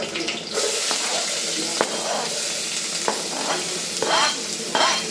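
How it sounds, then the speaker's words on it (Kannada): Green chillies and onion sizzle and fry in a pan for an egg masala, a steady close hiss broken by scraping stirs and soft clinks, with faint water noise underneath. "ಹಸಿಮೆಣ್ಸಿನ್ಕಾಯಿ ಹಾಕ್ಕೊಂಡು ಸ್ವಲ್ಪ ಫ್ರೈ ಮಾಡಿದ್ಮೇಲೆ ಈರುಳ್ಳಿ ಹಾಕ್ತಾ ಇದ್ದೀನಿ ನೋಡಿ"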